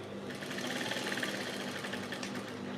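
A sewing machine stitches fabric for a beginner's gown with sleeves and pockets, running a steady, continuous mechanical whir at a constant speed, fairly quiet and close, with no talking.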